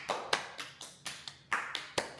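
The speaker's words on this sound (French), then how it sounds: "On applaudit." About eight sharp hand claps land close by in a steady, slightly uneven rhythm, each crisp and separate, with no one talking over them.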